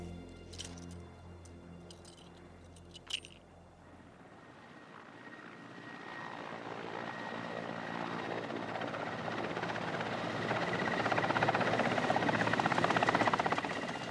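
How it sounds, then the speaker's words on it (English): A helicopter's rotor roar builds from quiet to loud and close, steady and droning, after a few brief knocks at the start. "they are brought aboard to the relative safety of a helicopter hovering"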